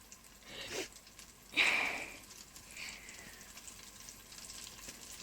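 Battered fish pieces dropped into a deep fryer for fish and chips, a quick burst of hissing sizzle that swells, then settles into a quieter crackle.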